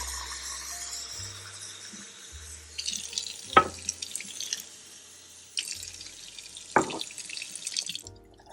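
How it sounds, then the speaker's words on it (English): Water runs from a tap in a steady stream into a mug, with a couple of brief louder splashes and clinks partway through before it stops. "Fill it with water."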